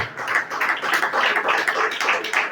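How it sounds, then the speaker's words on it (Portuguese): A church congregation at an Assembleia service in São Paulo clapping hands, a dense, fast and steady rhythmic clapping that carries evenly throughout. "Palmas bem fortes para Jesus"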